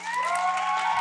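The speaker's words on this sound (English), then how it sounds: "Give applause for Team Mars." A crowd at a Moon vs. Mars debate event at HMNS applauds and cheers together, a dense steady wash of clapping with a few excited shouts, loud and continuous for about a second.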